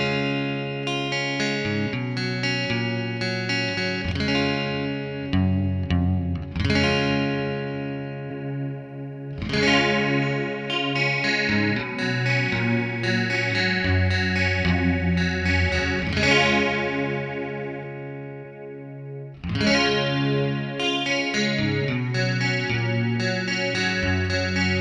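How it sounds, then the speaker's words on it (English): An electric guitar plays first with a clean tone, then through the Detune setting of an old Electro-Harmonix Pitch Fork and a newer Pico Pitch Fork pedal. The detune gives a shimmering, chorus-like doubling in loud, close passages separated by brief pauses. "first you will hear my clean guitar sound, then the Detune setting on the old pitchfork, and then on the new one."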